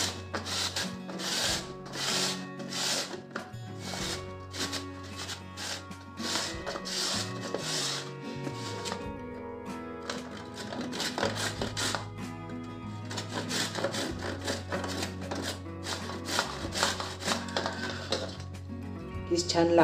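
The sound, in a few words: grating carrots and beetroot for gajar halwa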